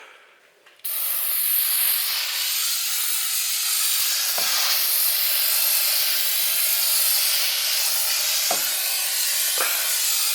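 Aerosol quick stripper sprayed onto an MR2 Turbo racing intake manifold, a loud continuous close hiss lasting several seconds with faint clicks and brief dips.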